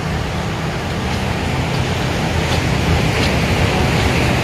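Ocean surf at Kuta Beach, Bali, near rocky breakwaters with fishing boats nearby: a loud, constant broadband wash of waves with no voices.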